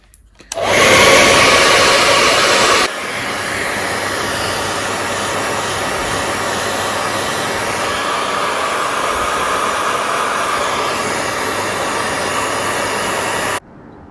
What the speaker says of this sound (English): we're going to hit it with a hairdryer and I'll show you what that does